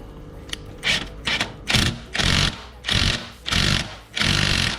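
An impact wrench hammers on the rear shock nut of a 2023 Honda CB500X during a rear shock replacement, firing in about six loud, close, rattling bursts of similar length with short gaps between them.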